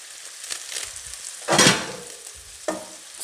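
Spinach added to a pan of frying Kenyan matoke, giving soft stirring scrapes and a brief burst of sizzling, then a quieter clink of a utensil against the pan; no talking.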